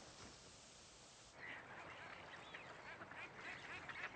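Ducks quacking on a wetland scrape at a nature reserve, several birds calling in a loose chorus at moderate distance over steady outdoor ambience, getting busier partway through.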